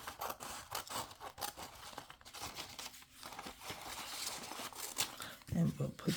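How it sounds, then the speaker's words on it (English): Paper is cut with scissors in a run of crisp snips and rustling crinkles, mostly close and fairly quiet, with some handling noise between the cuts. "Cut this here"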